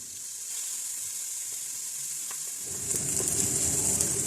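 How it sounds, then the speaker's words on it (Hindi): Hot oil hisses as onions fry, a steady sizzle that grows louder and rougher partway through as the onions are stirred in the pan. "प्याज को ऑयल के अंदर थोड़ा सा सोते कर लिया है"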